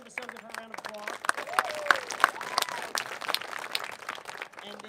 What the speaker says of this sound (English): still give her a round of applause